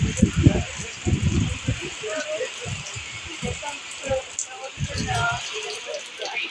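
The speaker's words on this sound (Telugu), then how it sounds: "విపరీతమైన వర్షం, గాలి." Heavy rain and wind on the Sattenapalli–Amaravati main road: a steady, dense hiss of downpour continues throughout, with voices talking over it in bursts.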